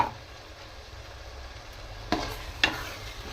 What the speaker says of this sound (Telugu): ఆ టమోటా పేస్ట్ వేస్తున్నాను.